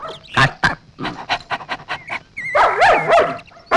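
Dogs in a Malayalam comedy film scene pant and bark in short, close bursts, ending with a longer whining, whimpering cry.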